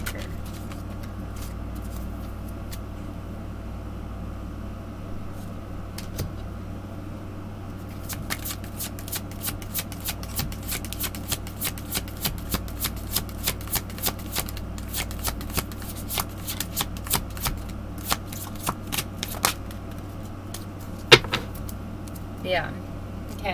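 Tarot cards being shuffled and drawn by hand, with soft card handling giving way to a long run of rapid, rhythmic riffling clicks close by, then a few more scattered snaps and slides.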